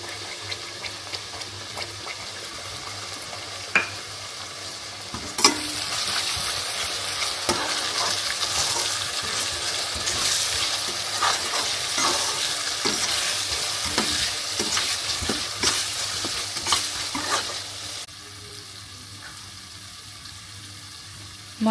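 Garam masala and whole spices fry and are stirred in a pan for a chicken curry, a steady close sizzle with repeated scraping stir strokes running through it, alone without talk before going quieter near the end.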